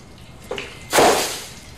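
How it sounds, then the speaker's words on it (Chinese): Water is poured out in one quick, loud splash that washes through for about half a second, after a softer slosh and a hushed room background. "你就这么倒水啊？"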